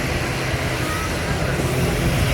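An Air Antilles airplane landing low over Maho Beach, St. Maarten, fills the air with a loud, continuous engine roar that holds steady for the whole moment, with faint voices nearby.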